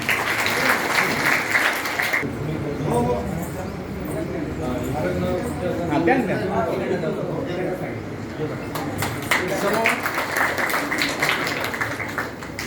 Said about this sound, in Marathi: टाळ्या वाजवा कौतुक